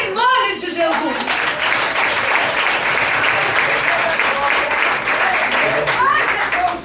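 Church congregation applauding at a service, loud sustained clapping filling the room, with voices and shouts rising over it at the start and end.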